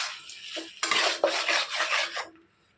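Tomatoes are sautéed in a pan over a medium flame for Mughal chicken, with a short burst of close scraping and stirring against the pan and a soft sizzle underneath that fades away at the end.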